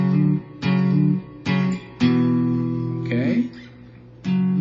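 Electric guitar playing a riff loud and close, a handful of sustained low notes struck in turn with a quick bend in the middle, no voice over it.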